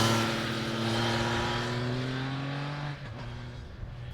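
A 2021 Triumph Trident middleweight naked motorcycle runs with a loud, close engine drone, its steady tone easing slightly in pitch before a brief dip near the end.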